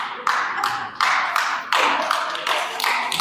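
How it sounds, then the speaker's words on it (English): One person clapping slowly at a church sermon, about seven crisp, evenly spaced claps, close and clear. "Wife only is clapping."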